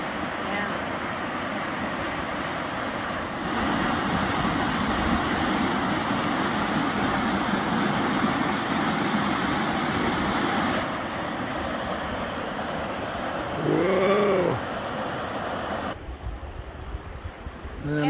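Rushing river rapids at Carney Rapids in Dunbar, Wisconsin, a steady broadband roar of churning water close by, with wind buffeting the microphone in places.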